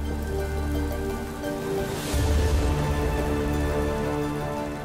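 Steady rain patters and hisses without pause, with a low droning hum running beneath it.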